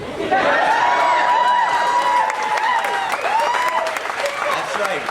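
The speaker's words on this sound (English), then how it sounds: "Notice all the women that are clapping right now." Women in an audience at the 2012 Superman Celebration in Metropolis, Illinois clap steadily and loudly throughout, with crowd voices, whoops and cheering mixed into the sustained applause.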